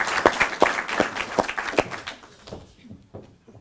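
Audience applause for contestants at the Concours Périclès semi-final, a crisp burst of clapping that tapers off and fades into a few scattered claps.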